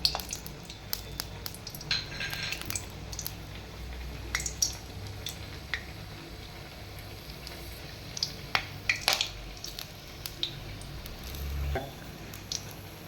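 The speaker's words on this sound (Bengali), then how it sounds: "তেলটা গরম হয়ে গেছে, আমি এর মধ্যে গোটা গরম মশলাটা ফোড়ন দিয়ে দিলাম।" Whole garam masala spices hit hot oil with a low, steady frying hiss dotted with scattered small crackles and pops, some sharper than others, heard close with no talking.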